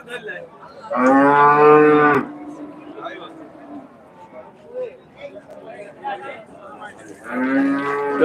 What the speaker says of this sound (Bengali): এদিকে গাভী গরু আছে